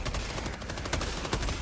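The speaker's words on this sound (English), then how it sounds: "Just laying down suppressive fire" Rapid suppressive gunfire in the video game Helldivers II, a dense, continuous burst of loud shots running through the whole moment.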